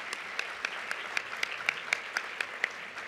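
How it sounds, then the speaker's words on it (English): Applause at a closing keynote, fairly quiet and somewhat distant, a soft bed of clapping with a few louder individual claps ringing out at a roughly regular pace. "another round of applause for Emily"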